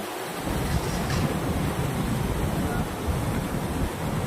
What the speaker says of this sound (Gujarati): બનાસ નદીમાં પૂર વહેતું થયું છે